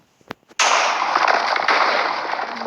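A TNT blast in a Minecraft-style video game follows a few sharp clicks, then bursts into a loud, sustained roar of explosion noise that gradually fades.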